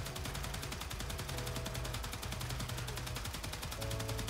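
The Gorgon Incarnon gun firing in Warframe: a rapid, steady stream of evenly spaced shots rattling without pause, held under a low musical hum throughout.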